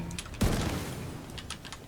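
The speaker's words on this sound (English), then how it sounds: "You shooting stuff?" A single loud, sharp gunshot blast in The Division 2 shooter game near a parking garage, cutting through quieter clicking and a faint voice before it and decaying into a rumbling tail.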